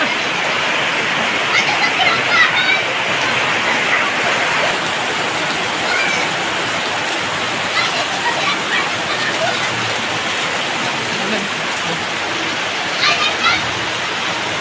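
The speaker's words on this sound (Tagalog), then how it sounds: "Maghahapon, lakas na ulan eh." A constant rush of heavy rain fills the scene, with faint voices now and then under the downpour.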